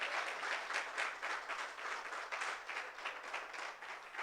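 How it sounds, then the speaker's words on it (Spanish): A church congregation applauds, its clapping fairly faint and a little distant, coming in slightly uneven swells of many hands throughout the short stretch. "Denle un aplauso al Señor por eso."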